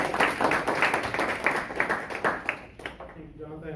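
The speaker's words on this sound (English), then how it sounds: "can we give a nice warm round of applause for the team from Alight Solutions?" An audience applauds for a visiting company team at an info session, a dense burst of clapping that thins out and fades toward the end, with some voices mixed in.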